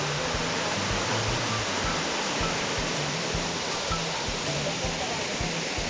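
A waterfall at a scenic falls in Kidapawan City, water pouring in a dense, steady rushing wash that stays even and fairly close throughout, with no talking over it.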